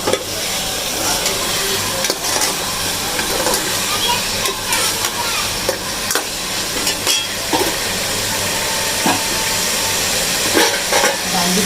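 Chicken being fried down (bhuna) in a pot with masala for a chane ki daal gosht dish makes a loud, dense hiss and crackle with scattered stirring knocks, and a voice talks briefly over it.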